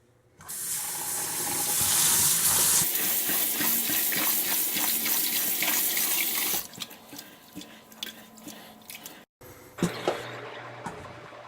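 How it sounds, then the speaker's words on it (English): Rice in a rice cooker bowl is washed under a running tap: a strong steady stream of water for several seconds, then quieter swishing and splashing as the grains are rinsed, near and alone. "Keep washing 3 to 5 times until the water becomes transparent or clear enough to cook."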